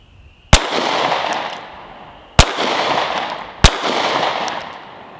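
Three loud, sharp shots from a Sig P365 Gen 2 pistol loaded with a 12-round magazine, fired at uneven intervals, each followed by a long echoing decay and no talking.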